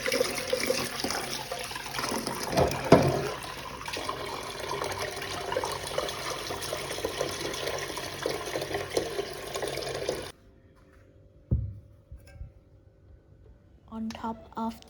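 Water runs steadily from a household tap, a broad continuous rush that cuts off abruptly near the end, leaving quiet room tone with a few brief knocks.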